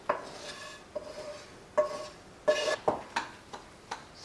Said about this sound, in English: So now to this yogurt add the fried Suji Rava.